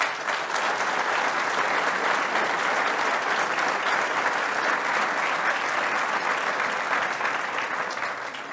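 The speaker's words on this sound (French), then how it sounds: "Et on peut vous applaudir." A town audience at a mayor's New Year address claps warmly for local youth, a dense, even burst of applause sustained for several seconds without talk.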